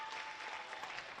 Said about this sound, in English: a nice round of applause here for the young ladies